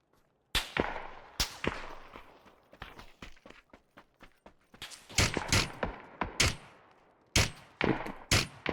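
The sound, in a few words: gunfire in a video game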